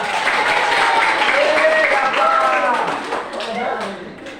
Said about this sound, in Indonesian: Kasih aplaus untuk Nadapa